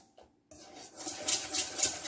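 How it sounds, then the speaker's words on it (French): Metal utensil scraping and clinking in a bowl while saffron honey is mixed into tiramisu cream, a steady run of close, quick stirring taps after a brief pause. "Donc, je le mélange et on se retrouve après"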